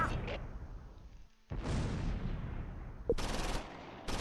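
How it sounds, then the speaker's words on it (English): Mortar fire in the WWII strategy game Close Combat IV at Losheim, as sharp bursts of distant battle gunfire and impacts, fairly faint with short gaps between volleys. "Mortars are being effective on the guys in the field"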